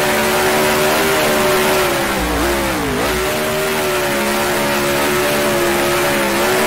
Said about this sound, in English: you can just hear the RPM so much lower when you're not following another car